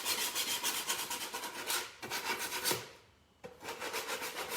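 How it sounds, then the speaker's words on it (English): Rapid back-and-forth scratchy rubbing of sandpaper on wood edges, close up, in quick rhythmic strokes with a brief pause before resuming. "Sanding, not one of my favorites, but to create an effect"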